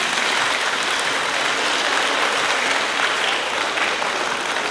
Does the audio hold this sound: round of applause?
yes